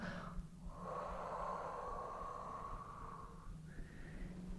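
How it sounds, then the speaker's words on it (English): A slow, deep breath drawn in and let out during a shoulder rehabilitation exercise, airy and close, one long steady breath with a faint trailing whistle-like tone. "deep breath in and exhale"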